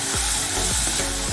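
Mustard paste, garlic, ginger and raw green chillies fry and sizzle steadily in a pan, with a continuous hiss and periodic stirring scrapes about every half second, close and alone without talk.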